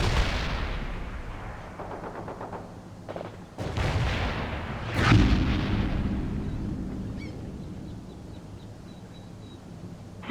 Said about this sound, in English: artillery fired on the mark